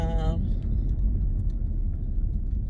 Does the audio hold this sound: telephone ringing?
no